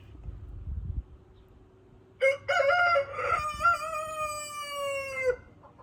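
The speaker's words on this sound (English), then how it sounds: "Watch my rooster now." A backyard rooster lets out one long, loud crow of a few seconds that rises sharply and trails off. Before it there is quiet outdoor background and a short low rumble.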